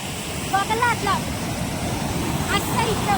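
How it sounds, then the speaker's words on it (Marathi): A fast-flowing river at Karjat rushes loudly and steadily nearby, a broad roar of water under bursts of excited voices and brief singing. "कसला जोरात पाणी येतोय"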